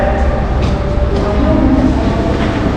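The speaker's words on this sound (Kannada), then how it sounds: "ಅಲ್ಲಿ ಟ್ರೈನ್ ಬಂದು ನಿಂತಿದೆ ನೋಡಿ" A train stands at an underground metro station in Russia, its steady low rumble and hum continuous and fairly loud, with faint station ambience around it.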